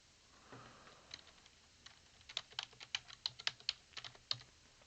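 Keyboard keys tapped to enter a login password on a computer running Fedora in VirtualBox, starting as a few scattered clicks and building into a quick, close run of crisp keystrokes with no talking.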